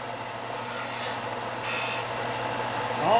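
A small sander running on its downhill side smooths foam off the ends of pen blanks, a steady rasp under a constant motor drone, with a few short stronger passes close by.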